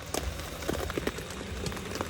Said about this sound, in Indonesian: Langsung gede hujan.